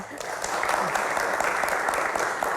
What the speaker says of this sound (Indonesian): Tepuk tangan teman-teman, terima kasih.